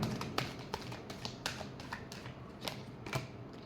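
Tarot cards being shuffled by hand in a quiet room: a quick series of soft, papery taps and riffles in an irregular rhythm, close and fairly faint.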